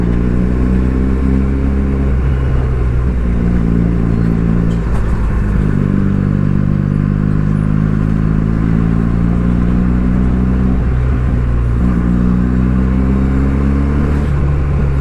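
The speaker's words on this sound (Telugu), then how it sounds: "యాక్సలరేషన్ వదిలేస్తే చాలు, టప్ టప్ టప్ టప్ అని సౌండ్ వస్తూ ఉంటుంది సైలెన్సర్లోకి వెళ్ళి" A Benelli 300i motorcycle engine runs loud and close for the whole stretch, a steady throbbing drone that rises and eases with the throttle, dipping briefly twice. Any exhaust pops are buried in the engine noise, and no one speaks.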